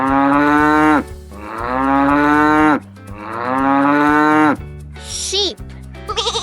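A cow gives three long, loud, close moos one after another, followed by shorter bleating animal calls at the end, and no human voices.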